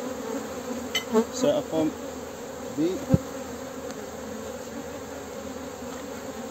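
Honeybees buzz around a hive frame during beekeeping work, a steady, moderately close hum with a few brief louder passes, while a voice is heard once or twice.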